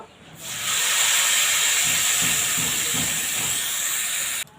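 Water poured into a hot pan of lightly fried white sesame seeds bursts into a loud, steady steam hiss that holds for about four seconds, then cuts off abruptly.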